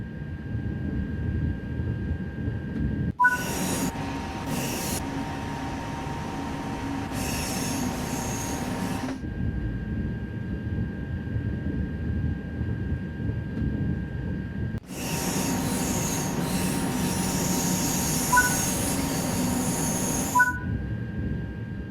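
A high-speed train in the game Train Sim World 2 rolls along with a constant rumble and long, loud metallic wheel squeals that come and go in two bursts, heard alone with no voices.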